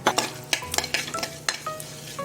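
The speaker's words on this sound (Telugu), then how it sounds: "పోపు చేస్తున్నా పల్లి చట్నీకి" Mustard seeds, dried red chillies, urad dal and salt sizzle in hot oil as a tempering for peanut chutney, with sharp crackling pops and quick stirring clinks close by in a pan.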